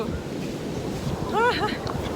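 Ocean surf at a Korean surf spot rolls on as a steady windy wash of breaking waves, with a brief burst of whistling or excited vocal tones in the middle over the roar.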